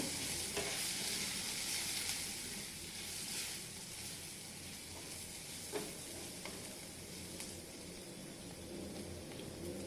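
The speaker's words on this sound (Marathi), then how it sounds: "आता ह्याच्यात मी थोडी हळद टाकते आमचा वर्षभराचा मसाला आहे तो घालते आणि चांगला ढवळून घ्यायचं" Turmeric and a homemade spice masala fry in chili tempering in a pan, stirred continuously, producing a steady, close sizzle with repeated scraping strokes of the spoon over about ten seconds.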